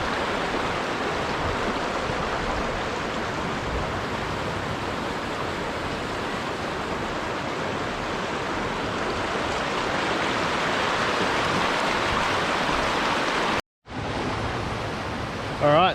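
A creek in Victoria's High Country flows at Woodspoint as a steady, broadband rushing wash, loud and close, continuous for most of the stretch before a brief cut and its return.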